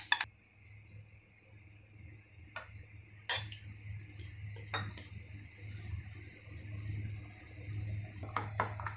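Toor dal powder is stirred with water in a bowl, giving faint scattered clinks and taps of a spoon against the bowl over a low steady background hum.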